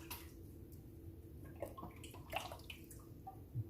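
Excess water being poured out of a T-fal 22-quart pressure canner pot, with an irregular splashing and trickling of water, fairly quiet and close, with no talking.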